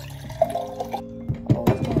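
Water being poured into a glass at home in the morning, a few close splashing and trickling bursts with short pauses between them and no talking.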